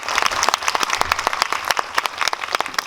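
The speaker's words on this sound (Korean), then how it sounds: "큰 박수 드리면서 마무리하겠습니다." An audience at a Megabox COEX cinema screening claps for director Kim Sung-su, steady dense applause from a crowd filling the whole stretch without speech.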